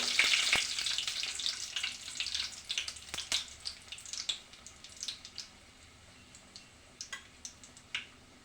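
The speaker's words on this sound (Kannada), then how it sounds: "ಸಾಸಿವೆ ಚೆನ್ನಾಗಿ ಸಿಡ್ದಾದ್ಮೇಲೆ ಮೆಣಸಿನಕಾಯಿ" Mustard seeds and chillies splutter and crackle in hot oil while a Kannada potato-tomato gojju is being made, giving close, irregular pops over a steady sizzle that thin out toward the end.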